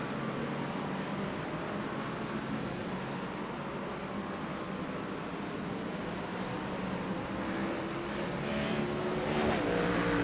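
GT3 race cars in the iRacing video game at Silverstone accelerate as a continuous, moderately loud engine drone, with no breaks and a slight rise in intensity near the end.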